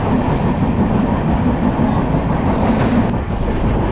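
Passenger train on the Diva to Ratnagiri run in the Konkan region, a loud continuous rumble and rattle heard from inside the carriage, steady throughout with no clear speech.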